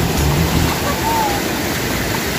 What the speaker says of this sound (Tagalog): na ang baha day